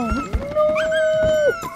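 A dog in a John Wick film scene whimpers and cries in a long, drawn-out whine that bends upward and fades, with a few soft thumps around it and no speech.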